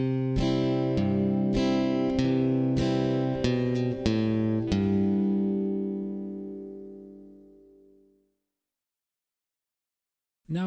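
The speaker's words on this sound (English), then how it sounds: "Now we add the chords." Beginner acoustic guitar chords strummed one after another, about six bright struck chords in quick succession, the last left to ring and fade out over several seconds before silence and a brief sound at the very end.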